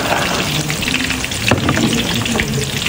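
Sliced onions tipped into hot oil in a pan, crackling and sizzling loudly up close, with a sharp burst partway through and steady spattering afterward, no talking.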